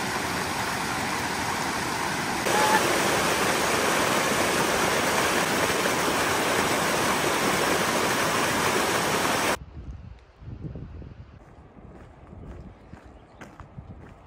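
Water rushes loud and continuous over rocks at a bridgeless creek crossing on a mountain backpacking trail, then cuts to quieter scattered sounds near the end.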